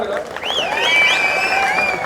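Steady applause from a crowd at the Chunchanakatte waterfall festival in K R Nagara, Mysore, sustained throughout, with a voice speaking and some musical tones above it.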